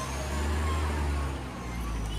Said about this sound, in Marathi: आणि गाडी निघालेली आहे, शेवटची गाडी 6वी